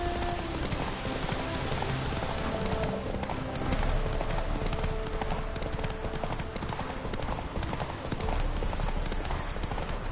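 Roach, Geralt's horse in the video game The Witcher 3, gallops in a steady, dense run of hoofbeats that stays loud and constant throughout, with faint game ambience underneath.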